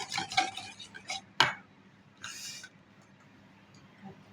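Banana cake batter mixed by hand in a bowl, with a few quick scrapes and knocks of a utensil against the side at the start, then softer stirring fading into quiet room tone.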